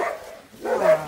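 Two quick barks from a dog, close and fairly loud, separated by a brief pause.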